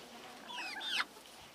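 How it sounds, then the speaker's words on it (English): A young chicken, one of two young roosters, gives a short string of faint, high chirpy clucks that rise to one brief louder note and then stop. "That was very nearly a cluck rather than a cheep."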